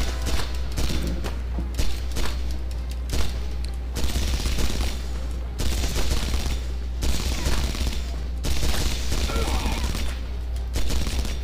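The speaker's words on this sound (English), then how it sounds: "Is that using the Half-Life 2, like, um, gun sounds?" Rapid gunfire in a first-person shooter video game, dense bursts of automatic shots repeating throughout, loud and close over a constant low hum.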